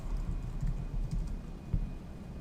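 Soft, rapid clicking of keys on a computer keyboard, a steady run of light taps at moderate distance with no voices.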